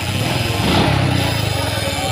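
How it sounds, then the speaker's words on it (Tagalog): A carbureted Honda XRM 125 motorcycle idles nearby with a steady low engine drone and a faint irregular ticking from an abnormal mechanical noise; a voice talks briefly over it. "May kakaibang tunog pag pinapandar."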